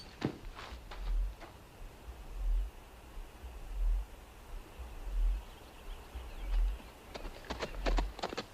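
Horses riding away in a western film, a steady clip-clop of hooves at a moderate distance, faint and rhythmic over an outdoor hiss with a few sharp knocks near the end.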